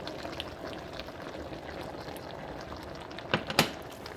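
Ground shrimp added to a simmering pot of vegetable soup with mushrooms, a soft bubbling and liquid murmur throughout, then two brief wet plops and clatters near the end.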